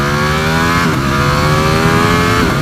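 A 2018 Ducati Panigale V4S revs hard under a twist of the throttle, its engine pitch rising, dropping briefly at a shift, then climbing again, loud, close and continuous.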